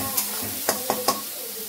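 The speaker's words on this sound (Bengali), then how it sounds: "চলো এবার মশলাটাকে ভালো করে ভেজে নিই, ভাজতে থাকি আরামসে।" Ground spice masala with tomato, green chilli and cumin frying in a pan, a steady close sizzle with a few quick spatula taps and scrapes, no voices.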